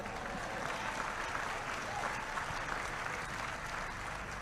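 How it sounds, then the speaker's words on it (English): Sustained applause from an audience at a Bible teaching session, a dense, even wash of clapping across the whole stretch, fairly distant and with no clear individual claps. "Give him a hand. He's an awesome God."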